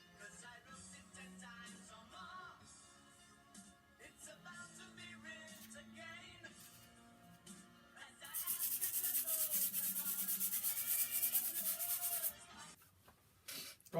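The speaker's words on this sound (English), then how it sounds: "Right, the pot's been sanded down." Abrasive rubbing of sandpaper over a pot made from reclaimed clay, steady scratchy strokes that grow louder and denser midway, then stop near the end; no talking.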